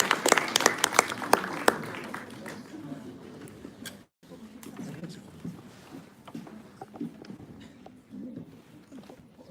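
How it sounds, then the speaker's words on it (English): At a TEDx event at the University of Detroit Mercy, a modest audience claps to welcome a speaker. The clapping is fairly quiet and thins out after a brief gap, with murmured talk underneath. "So why don't we give him a applause?"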